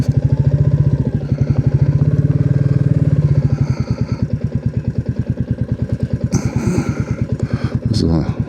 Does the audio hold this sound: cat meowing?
no